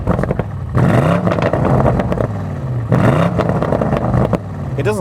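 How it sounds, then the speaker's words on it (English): A 2023 BMW M850i V8 revved in Sport Plus mode, heard from inside the cabin: two loud, sweeping rev rises and falls with pops and crackles, and a voice talking over the engine noise. "Just listen to me rev this thing. You get all the pops and everything."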